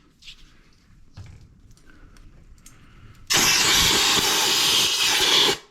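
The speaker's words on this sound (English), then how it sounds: "you can use your blower nozzle to just blow that back towards you" After some faint clicks and handling, a compressed-air blower nozzle bursts on with a loud, steady rushing hiss, blowing air into the intake of a Toro Z Master mower, held close for a couple of seconds then cut off.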